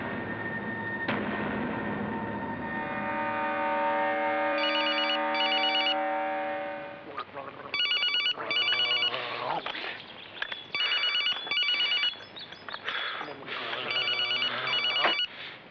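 A phone ringtone rings repeatedly in bursts, loud and close, with a sustained tone at the start and clustered electronic rings that follow.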